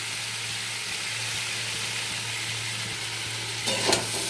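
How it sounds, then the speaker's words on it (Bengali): Vegetables and drumsticks frying in spices in a pan for shukto, a loud continuous sizzle with a short burst of stirring clatter near the end, no talk. "একটু ভাজা ভাজা হোক।"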